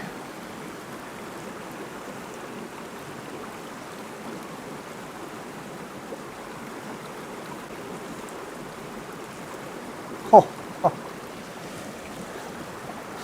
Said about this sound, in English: Skirting around the edge of the river, trying to keep a fairly low profile, although the water's very turbulent.